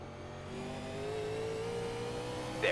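Race car engine from an iRacing NASCAR Cup simulation at Bristol, a steady mid-pitched drone that slowly rises in pitch as a car closes in, ending in a brief sharper burst, with no talk.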